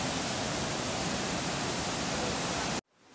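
Steady, loud rush of river water over rocks in Nikko, Japan: a dense, unbroken roar that runs without pause and then cuts off abruptly near the end.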